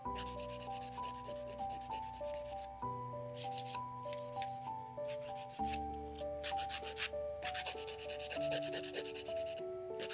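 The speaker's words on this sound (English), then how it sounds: "So I'm gonna taper the both sides for almond look." Nails being filed and tapered into an almond shape with steady, repeated rubbing strokes, close and continuous under constant background music.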